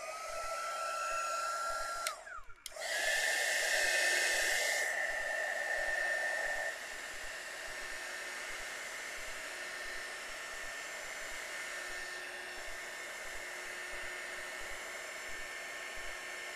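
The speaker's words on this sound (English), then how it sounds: "And there went my heat tool." A heat tool blows hard while drying a watercolor painting, a loud steady whoosh that cuts off with a clunk, starts again stronger, then drops to a quieter hum that continues to the end.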